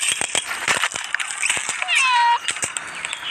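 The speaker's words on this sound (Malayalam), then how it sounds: "ഇപ്പോൾ നല്ലൊരു പൂച്ച നമ്മൾ മീൻ പിടിക്കുന്ന കണ്ടിട്ട് വന്നിട്ടുണ്ട്" A local country cat near a fishing spot gives a single drawn-out meow, loud and close, with scattered clicks and handling noises before and after it.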